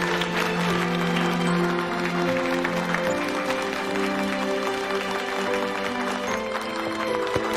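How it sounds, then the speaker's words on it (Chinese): Welcoming applause from an audience as a speaker is called onto the stage, a full steady clapping that holds throughout with music-like tones underneath. "让我们用最热烈的掌声欢迎她"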